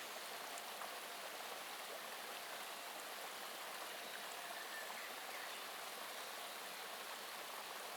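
A lively river flows steadily with constant broadband rushing and splashing water, heard alone with no voices, an even, unbroken wash of sound throughout.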